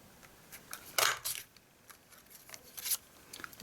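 Scissors snipping through card stock while crafting a gift bag, a series of short crisp cuts in an uneven rhythm, close and fairly clear against a quiet room.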